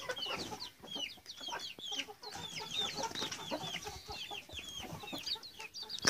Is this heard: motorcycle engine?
no